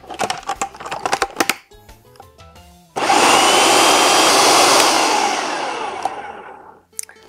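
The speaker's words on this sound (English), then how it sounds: "now we're going to go ahead and blend the ingredients to combine them" A countertop blender whirs loudly and steadily as it blends chocolate pie ingredients, then spins down, with a few clatters and brief movements before it starts.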